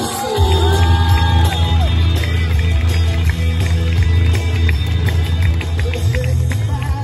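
A rodeo arena crowd cheers and whoops as the flag enters during the grand entry, a loud continuous roar with scattered shouts over a low steady rumble.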